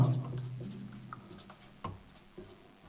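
A pen scratches faintly on paper during a maths lesson, with soft, uneven strokes and a few small taps and ticks in a quiet room.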